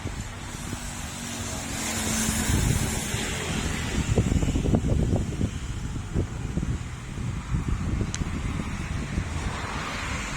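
Swirling wind roars and buffets the microphone in a continuous rumbling rush, strengthening into rougher gusts midway, with no voices.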